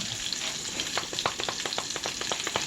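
Brussels sprouts and okra stir-frying in a pan with seasoning give a constant close sizzle, with a run of quick sharp clicks and scrapes from stirring.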